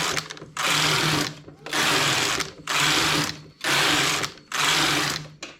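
Knitting machine carriage sliding across the bed, five loud whirring, ratcheting passes in a regular back-and-forth rhythm with brief pauses between rows, close up.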